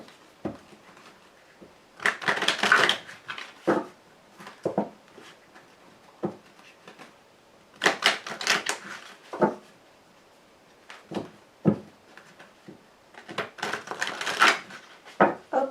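A tarot deck is shuffled and cut in irregular bursts of papery slaps and rustles, close and moderately loud, with quiet gaps between handfuls and no speech.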